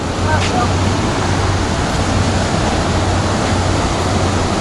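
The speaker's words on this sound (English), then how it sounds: "I don't know if you can hear the ocean or not" A loud, constant roar of ocean surf at Mayport, Jacksonville, Florida, steady wash of waves with low wind rumble underneath.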